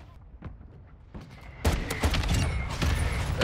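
Distant gunshots in a video game, a few faint isolated cracks followed by a sudden burst of rapid, close gunfire that keeps rattling on loudly.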